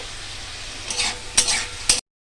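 Vegetables with salt and turmeric being sautéed in a pan for a pointed gourd and soybean curry, a soft sizzle under three sharp stirring scrapes spaced about half a second apart, close and moderately loud.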